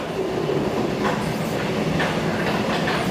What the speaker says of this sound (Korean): 길경미 씨는 동네 아줌마들과 기차 여행에 나섰습니다